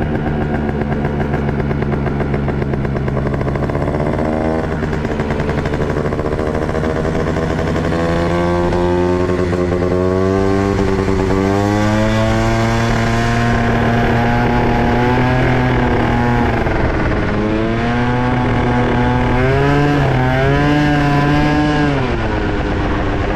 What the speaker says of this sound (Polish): Ten skuterek to już jest wyjątkowy, no taki leciutki.